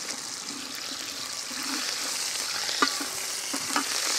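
Ginger and garlic frying in a pan for a village-style mutton kuzhi paniyaram, giving a steady close sizzle with a few sharper stirring clinks and scrapes near the end.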